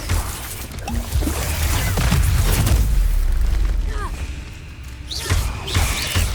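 Explosive Bombarda spell blasts in Hogwarts Legacy on PS5, heavy booming impacts and crashes amid busy combat effects, with game voices calling out at times.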